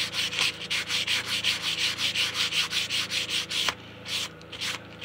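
A cloth rubs a thin coat of polyurethane clear coat onto wood in quick, even back-and-forth strokes, a close, dry swishing rhythm that slows and breaks up near the end.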